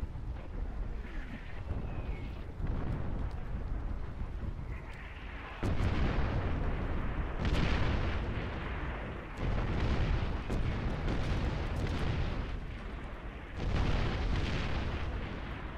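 Heavy cannon artillery strikes in the video game Far Cry 4, a run of loud, deep booming blasts with rumbling, roaring bursts that swell and fade across the stretch, with no talk over them.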